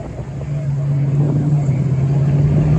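An Oldsmobile race car at the Laguna Seca motorsports reunion gives off a steady, droning engine rumble that swells slightly louder as it holds a constant pitch.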